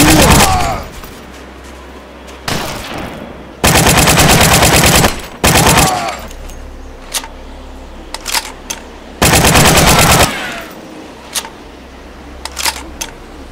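WWII video game battle set in Berlin, with loud close bursts of machine gun fire, several long sustained volleys and shorter bursts, separated by scattered single shots and quieter battlefield gaps.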